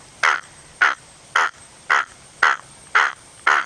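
A mimicry artist imitates a crow calling guests, giving seven short, sharp caws at a steady, even rhythm, close and loud against a quiet background.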